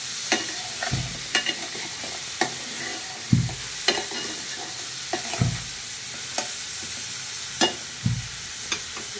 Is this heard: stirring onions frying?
yes